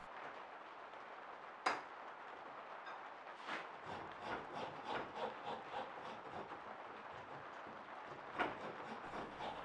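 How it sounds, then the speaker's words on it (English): A hand rasp filing a wooden knife handle scale, a series of soft scraping strokes in an irregular rhythm, faint and close, with a sharper knock at two points. "just turn the rasp around and work it backwards"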